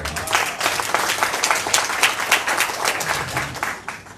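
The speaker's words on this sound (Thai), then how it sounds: "ขอเสียงปรบมือด้วยครับ" A crowd applauds at a leadership talk, dense, lively clapping that stays loud and close throughout with no voices over it.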